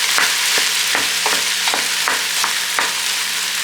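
Ground beef, about 1.5 pounds, browning in a pot with potatoes and onions for Brunswick stew: a steady loud sizzle with repeated scraping strokes as the meat is broken up and stirred.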